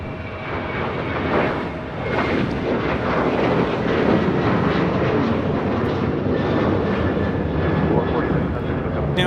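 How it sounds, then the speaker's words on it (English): A JetBlue Airbus A321 arriving at LAX from Boston produces a loud, continuous jet roar with rumbling texture, while a voice talks intermittently over the engine noise. "And the JetBlue A321 coming in from Boston on this A321 Flight 2687."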